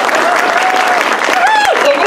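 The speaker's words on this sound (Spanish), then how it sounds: "Un aplauso para Nayeli." Audience applause for Nayeli at an activist gathering about pesticide regulation, a steady wash of clapping with a voice or whistle rising over it, loud and sustained throughout.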